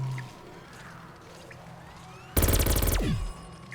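A newly picked-up gun in a video game fires one loud, close burst of rapid automatic shots lasting about a second, set against quiet game ambience.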